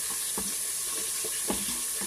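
Yellow rice with pigeon peas cooks in a quick cooker, giving a steady close hiss broken by a few soft scraping, stirring knocks.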